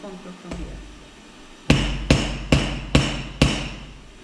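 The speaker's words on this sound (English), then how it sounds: "Now you have to hammer." Five sharp, evenly spaced hammer blows flattening a metal rivet ring out close and loud after a short quiet lead-in, with a faint thump near the start.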